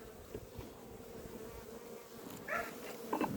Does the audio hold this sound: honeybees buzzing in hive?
yes